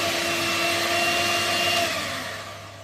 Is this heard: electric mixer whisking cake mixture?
yes